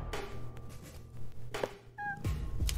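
A cat meows in the Deponia point-and-click adventure game, a few short, close cries heard over background game sound, with no talking.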